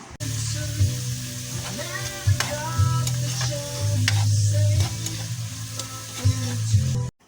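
Kangkong (water spinach) stir-fried with garlic in a hot pan, steady loud sizzling close by, broken by repeated metallic scrapes and clinks of a spatula stirring.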